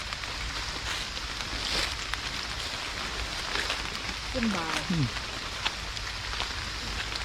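Rain falling steadily through a forest while mushroom hunting, a soft even patter and hiss throughout, with a bird call and a brief voice faintly beneath.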